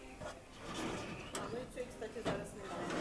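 A metal drawer on a pedestal cabinet for a desk in a Jysk furniture store slides open or shut with a couple of short scraping clunks, heard through steady store noise and people talking.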